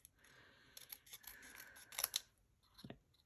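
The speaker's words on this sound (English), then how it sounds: "scissors and I am just going to fussy cut this" Scissors fussy cutting around a stamped paper baby pull toy design for a card craft, giving a few soft snips and crisp slicing bursts, with one sharper cut near the end, close and fairly quiet.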